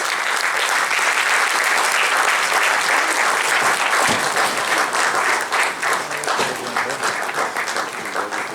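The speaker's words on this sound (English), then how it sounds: "Can we welcome him with a big round of applause, please?" Sustained loud applause from a large audience at an India-ASEAN business summit, welcoming a Malaysian minister; dense steady clapping fills the whole stretch with a faint murmur of voices beneath.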